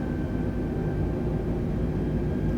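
Airbus A320neo engines in Microsoft Flight Simulator, a steady dense roar with a faint whining tone above it, holding constant and loud throughout, no voices.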